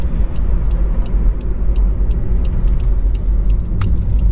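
Honda CR-Z 1.5 IMA GT hatchback driving at a steady gentle pace, a constant low engine and road rumble filling the interior with faint ticking above it, no talk.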